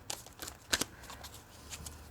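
Tarot cards are shuffled by hand in a quiet room, a few soft riffling and slapping bursts, close but faint, with short pauses between them.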